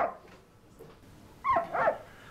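A stray dog found wandering the street gives a faint whimper, then two close, loud yelping barks in quick succession, with no one speaking.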